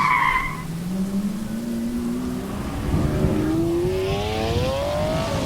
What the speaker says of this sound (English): The roar of the engine and the distinct noise of brakes being slammed around corners.